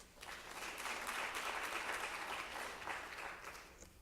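An audience applauds at a college flex day gathering, a dense, steady patter of many hands clapping together at moderate distance for about four seconds.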